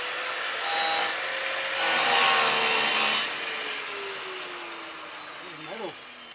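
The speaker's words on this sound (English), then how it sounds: "What Chepo's gonna do is pretty much slice this right out" A tool slices metal out of a Subaru STI body panel, producing rough grinding and rasping bursts up close that swell and fade. A faint whining tone drifts underneath.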